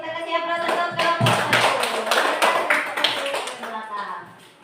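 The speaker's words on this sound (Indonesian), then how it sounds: "kita kasih aplaus untuk kelompok" A classroom group of students claps in applause, a dense burst of many hands close by that swells and then fades, with voices mixed in.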